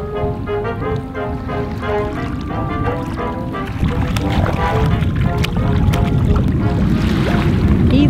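Canoe paddled along a river, steady water sloshing and paddle strokes close by, with a constant rushing wash building slightly toward the end.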